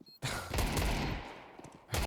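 A Desert Eagle pistol fired in a Counter-Strike match: sharp loud gunfire bursts blending with other in-game shots, one heavy crack at the start and another near the end, with no speech.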